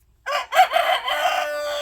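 A single white rooster crows nearby, a loud bright call lasting under two seconds against an otherwise quiet morning background.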